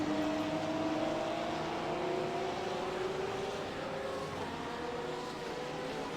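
A Porsche GT3 race car at the Catalunya circuit drones past with a steady, loud engine note whose pitch climbs and shifts as it runs through the gears, with no talking over it.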